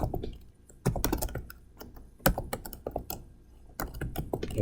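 Typing on a computer keyboard while filling in a Thai e-visa application form, with irregular clusters of close key taps and a few louder strokes, heard alone without talk.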